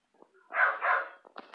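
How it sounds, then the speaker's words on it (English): A dog barks in the background of a room where a Toshiba Windows 7 laptop is being repaired, giving two quick middle-distance barks followed by a few short yips, with no talk over it. "sorry about my dog. He's barking in the background."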